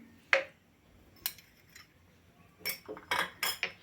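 A spoon stirs saffron-colored milk through a coconut ladoo mixture in a metal pan, giving several sharp clinks and scrapes, an isolated tap early, then a cluster of clinks near the end, close and fairly quiet.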